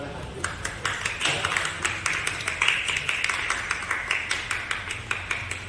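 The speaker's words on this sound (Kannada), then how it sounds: "ಎಲ್ಲರ ಚಪ್ಪಾಳೆ ಹಾಕ್ತೀವಿ" Audience clapping at a student quiz event in Yelahanka, a steady dense patter of many hands throughout, moderately loud with some voices underneath.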